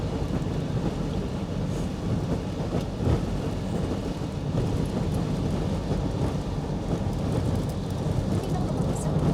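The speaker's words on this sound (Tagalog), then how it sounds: "Lakas ng ulan." Heavy rain pours down in a dense, steady roar that fills the whole stretch, with a low rumble underneath and no clear breaks.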